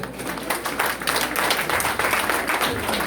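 A church congregation applauds at a women's group anniversary celebration: a broad wash of clapping, fairly loud and continuous, with a faint voice in the background.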